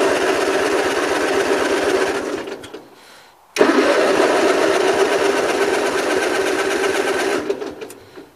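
Gravely 8163-T garden tractor engine with a carburetor needing cleaning, running in a steady fast putter, fading and stalling briefly before catching again and running on loudly, then dropping off near the end.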